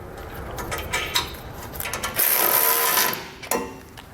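A ratchet tightens a nut onto a side bolt of an EcoHitch hidden front-mount trailer hitch receiver on a 2021 F-series truck, giving close, rapid clicking strokes with brief metallic clanks between them.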